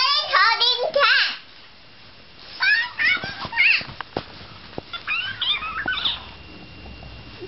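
An iPhone Talking Cat app gives out a run of high, sliding meows and chirpy cat-voiced phrases in short bursts, with a voice and light tapping in between.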